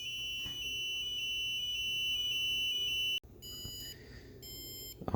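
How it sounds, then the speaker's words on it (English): An active buzzer in an electronics lab emits a loud, continuous high-pitched tone that cuts off abruptly, then returns as shorter intermittent beeps. "here's the next lesson using active buzzer."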